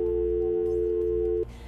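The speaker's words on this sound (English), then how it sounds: "and then the phone cut out" A steady, loud telephone line tone, like a busy signal after the call cuts out, holds unbroken for over a second and then stops abruptly, leaving faint background hiss.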